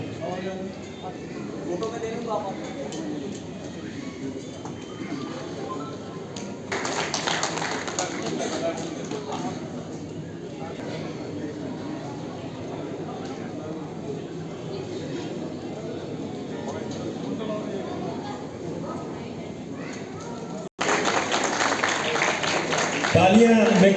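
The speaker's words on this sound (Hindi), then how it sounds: "तालियां में कमी है, ताली बहुत जोर से बजनी चाहिए इस होनहार बच्चे के लिए" Audience applause at an award felicitation ceremony, a dense patter of clapping under a loudspeaker announcer's voice, swelling louder near the end.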